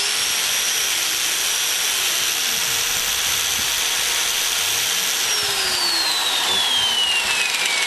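A 4.5-inch angle grinder fitted with a wire wheel scours metal clean on a Meyer E-60 plow pump, a continuous loud hissing whine that holds steady and then shifts pitch near the end.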